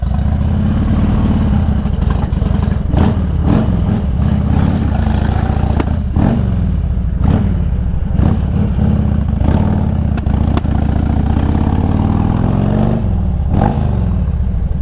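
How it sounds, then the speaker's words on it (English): A 2000 Harley-Davidson FLHTCUI air-cooled V-twin motorcycle idles close by, a steady loping engine rumble with slight throttle variations and no talk over it. "These air-cooled bikes don't like sitting there idling for too long."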